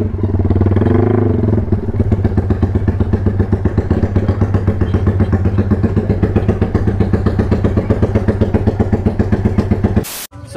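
A motorcycle engine with a modified exhaust rumbles loudly at close range, revving once near the start and then settling into a steady, throaty idle that cuts off abruptly at the end.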